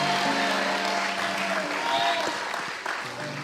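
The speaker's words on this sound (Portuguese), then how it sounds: "Aplauda com vontade, faz barulho aí, diga glória a Deus." Church congregation claps at a Brazilian evangelical service, loud mixed applause and cheering over sustained music tones, with voices calling out and the noise easing toward the end.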